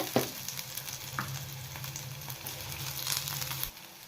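Curry leaves and a half-inch piece of ginger sizzling in hot oil in a pan for tomato chutney, a soft steady fry with a few brief stirring scrapes, fairly quiet, with a low hum underneath that cuts off near the end.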